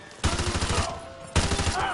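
Rapid automatic gunfire in the Call of Duty: Modern Warfare 2 Remastered campaign, two loud sustained bursts of rattling shots separated by a brief lull, close and dense with faint background game sound.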